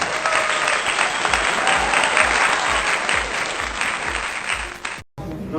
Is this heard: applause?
yes